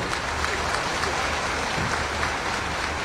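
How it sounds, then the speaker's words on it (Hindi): Light applause from an audience at a school inauguration ceremony in Gorakhpur, a steady dense patter of clapping filling the whole stretch at moderate level with no pause. "बहुत हल्की तालियां हैं गोरखपुर वासियों"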